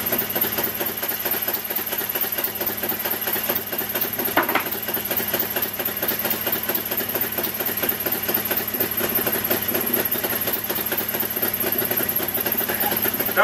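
A homemade 360 engine idles steadily during carburetor adjustment, a continuous buzzing, vibrating drone with a fast even rhythm, loud and close with no pauses.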